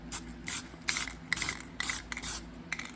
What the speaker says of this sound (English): the next time I spray, it's gonna have a little bit more